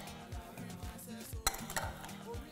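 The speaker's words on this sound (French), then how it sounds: "Je vais rajouter aussi du sucre. Bien mélanger le tout." A spoon stirs a mixture of millet seeds and sugar in a bowl, quiet scraping strokes with a few light clinks against the rim, close and soft with no talking.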